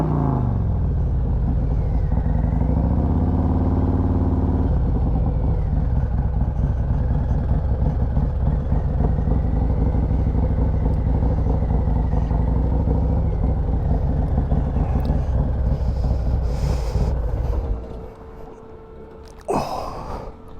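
Small motorcycle riding along a road, a steady loud engine drone with wind rumble and a slight shift in pitch, then fading to quieter idle and clunks near the end.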